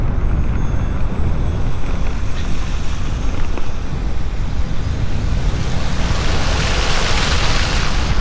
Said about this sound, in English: Or should we drive through this water?